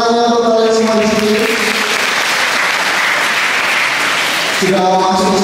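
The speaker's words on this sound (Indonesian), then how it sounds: "Tepuk tangannya untuk kalian semua di sini." Loud, dense applause from a school audience fills the middle of the clip, with a voice speaking over a microphone before and after.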